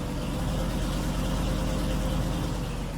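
A truck engine in Farming Simulator 19 drones at a steady idle, a low continuous rumble that stays even and fairly quiet throughout, with no talking.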